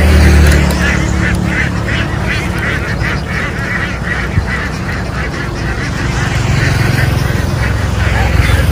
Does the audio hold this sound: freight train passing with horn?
no